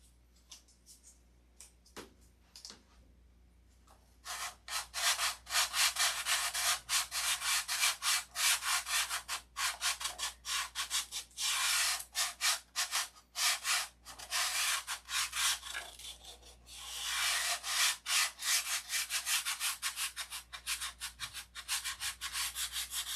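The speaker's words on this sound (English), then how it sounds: "just an immense amount of sanding to be done on this airplane." Hand sanding on an airplane under construction before covering, starting after a few quiet seconds, then a long run of rapid, steady back-and-forth rasping strokes, close and fairly loud, with one brief pause partway through.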